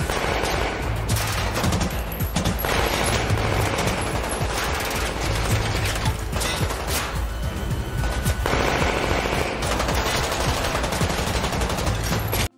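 Dense, loud automatic gunfire and rapid shots roar almost without pause through a gang-war gun battle in a Brussels-set Netflix crime series trailer, mixed with booms and dramatic score.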